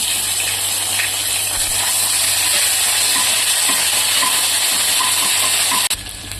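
Garlic paste frying with masala in a hot pan, a loud continuous sizzle and crackle close by with a low steady hum underneath, ending in a sudden break; no talking.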